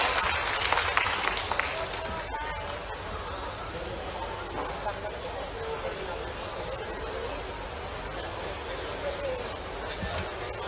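An audience at a mining summit session applauds the Chief Minister with dense, steady clapping that fills the whole stretch, loud and sustained with a crowd murmur underneath.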